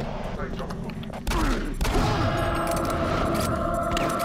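Gunfire from a gun in the video game Doom 3: a sharp blast at about one second gives way to sustained loud, dense firing with a droning hum and clatter running through the rest.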